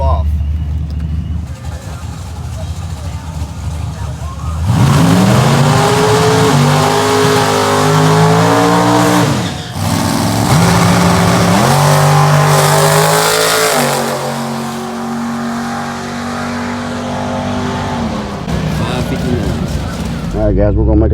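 Ford GT500 engine running loudly at close range, with repeated hard revs rising and falling over a steady rumble, one brief dip before climbing again, and a voice talking over it in places.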